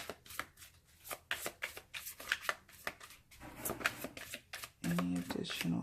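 Tarot cards are shuffled in a rapid, crisp series of riffling flicks and slaps, close and fairly quiet, while a person talks over them.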